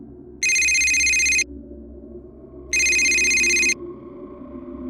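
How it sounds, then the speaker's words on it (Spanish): A telephone rings in two long electronic bursts separated by a short pause, loud and clear over a low background hum, with no talking. "Sonó el teléfono y me sobresalté un poco."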